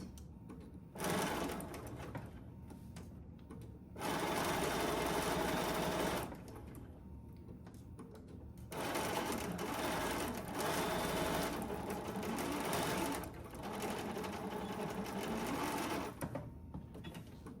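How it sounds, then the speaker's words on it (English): A sewing machine stitching a quarter-inch seam on a quilt block, running in several loud close bursts of rapid whirring separated by short pauses, including brief back-stitching. "I'm just going to stitch that down with that 1/4 inch seam."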